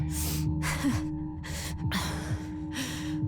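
Slow, controlled in-and-out breaths from a character in the Tell Me Why video game, several broadband breath bursts in a steady rhythm over a low musical drone, close and clear.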